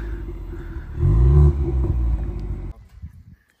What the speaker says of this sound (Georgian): მასაც მოვუსმინოთ. პოპკორნი აქვს თავისი სპორტზე.